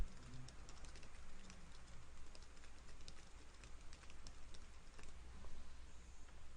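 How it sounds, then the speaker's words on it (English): Faint, rapid keystrokes on a computer keyboard, an irregular stream of light clicks continuing throughout at low volume. "I can go on here and type, whatever I want"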